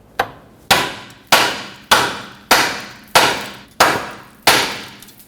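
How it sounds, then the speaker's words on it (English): Eight sharp hammer blows strike a steel steering knuckle on a 2006-2010 Hyundai Sonata to free the outer tie rod stud, each ringing impact decaying quickly, spaced in a steady rhythm, close and loud with no talk. "use a hammer, tap on the knuckle right here"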